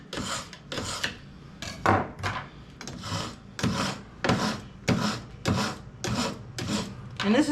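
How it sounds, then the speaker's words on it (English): A kitchen knife is drawn along a crisscrossed ceramic rod sharpener, producing about a dozen rhythmic rasping strokes in quick alternating pairs at close range, with brief pauses between them and no talking. "I think it's time to take a knife sharpening break."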